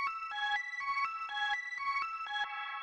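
A dry synth pattern with the echo switched off, repeating short bright chords in an even rhythm, with about six distinct note hits, heard alone and clear.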